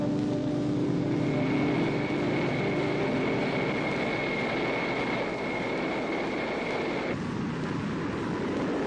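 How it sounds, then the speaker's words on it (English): Lockheed Blackbird jet engines at takeoff, a loud continuous roar with a steady high whine that drops away near the end, with no voices. "With a push forward on the throttles, they take to the air."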